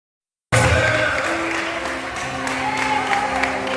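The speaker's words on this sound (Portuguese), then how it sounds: "Aplauda o Senhor." After a brief silence, a congregation breaks into sustained applause, many hands clapping with a held musical tone underneath.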